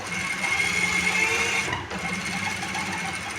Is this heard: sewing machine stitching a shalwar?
yes